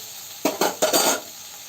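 Chopped onion sizzles on a hot dosa pan, with a few quick stirring scrapes and crackling bursts over a steady hiss, close and fairly loud.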